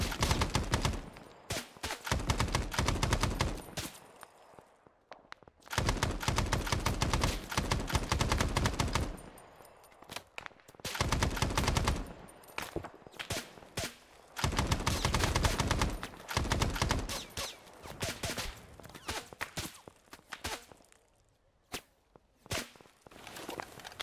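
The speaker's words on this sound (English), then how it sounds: "They're definitely picking it up a little bit in the firing." Gunfire in the military shooter game Arma 3, loud bursts of automatic fire that come in clusters several seconds long and are separated by brief quieter gaps, continuing through most of the stretch.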